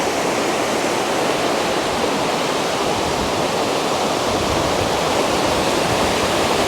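Glacier meltwater rushes along a stream near Lauterbrunnen, Switzerland, a dense, steady roar of flowing water heard up close with no voices.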